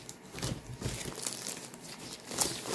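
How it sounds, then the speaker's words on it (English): A plastic bag holding a craft supply order crinkles and rustles continuously as it is handled up close during unboxing, with no talk over it. "so it comes in this plastic bag."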